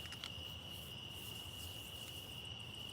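Crickets chirp after sundown in a steady, high, continuous trill that sits over a faint, even background hum, with no voices.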